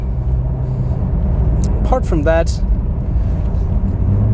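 A Porsche 911 Turbo driving on a snowy ice track with pylons gives a steady, low engine rumble that runs under someone talking throughout.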